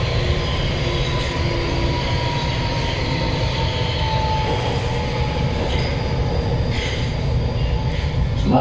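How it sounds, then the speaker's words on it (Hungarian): A Budapest M4 metro train runs underground with a loud, steady rumble and roar, faint wheel squeal threading through as it travels. "This is Metro Line M4 to Erenfurt vasútállomás."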